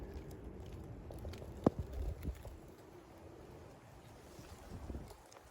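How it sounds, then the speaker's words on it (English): Strong wind buffets an exposed outdoor spot among gorse scrub while out bird nesting, a steady low roar of wind noise on the microphone with a few brief gusty thumps, no voices. "Extremely windy today."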